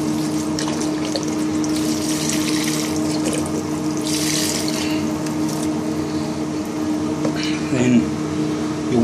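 A full litre of Campbell's beef stock pours into a cooking pot in a steady, continuous liquid stream, with a brief louder splash near the end; voices speak faintly in the background of the kitchen.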